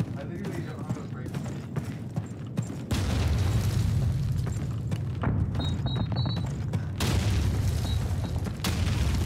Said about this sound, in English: Where are those nades coming from exactly?